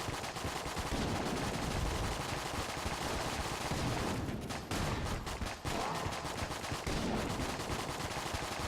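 Rapid automatic gunfire from the Patriot gun in the video game Enter the Gungeon, a dense, continuous loud barrage of shots with brief gaps, no talking.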